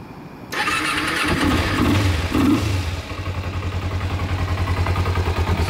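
A carbureted retro-style motorcycle engine cranks and fires up, then settles into a steady, close idle with a rhythmic low putter.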